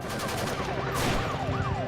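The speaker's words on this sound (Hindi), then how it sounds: "धमाके की आवाज और गोलियों की आवाजें हैं।" Rapid bursts of gunfire crackle continuously with a heavy, booming backdrop of explosions, while a siren wails up and down in the distance.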